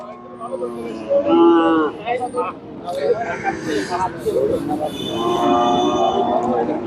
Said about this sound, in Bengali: বন্ধু গরু কিন্তু ছুটে গেছে